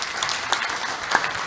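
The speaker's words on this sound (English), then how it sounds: "Let us give them a hand of applause." An audience at a keynote session of a diocesan conference claps after a video presentation, a soft, steady wash of scattered applause that stays even throughout.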